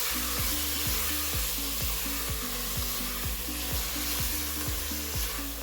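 Chopped tomatoes frying in a pan for tomato pulao, stirred with a steady rhythmic scrape of the spoon every half second or so over a constant loud sizzle, close up with no talking.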